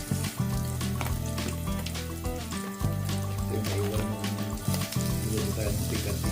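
Beef sizzles loudly in a pan with onions for a Filipino pinapaitan dish, a steady close frying crackle with occasional stirring clinks and no speech.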